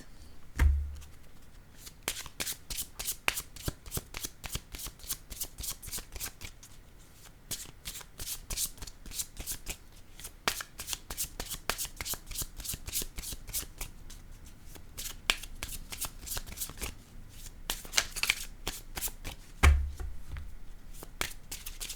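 Playing cards shuffled close by, a series of crisp riffling bursts and soft slaps repeating in uneven rhythm, with brief gaps between shuffles and no talking.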